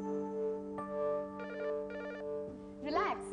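Mobile phone ringtone chiming in a home at breakfast, a repeating electronic melody in short bursts with steady background hum, fairly clear and close, with a brief voice-like warble near the end.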